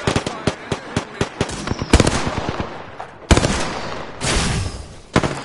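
Gunfire in the Apex Legends video game: rapid sharp shots in quick uneven bursts, loud and close, with a longer burst of fire near the end.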